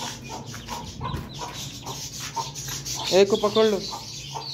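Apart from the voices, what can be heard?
chickens clucking while a hen is taken out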